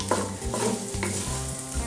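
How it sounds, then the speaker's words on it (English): Carrots stir-fry loudly in a pan on high heat, with rhythmic scraping strokes of a utensil every half second or so. "So right now, the next thing I want to add is my carrots. Remember, we are frying on a high heat."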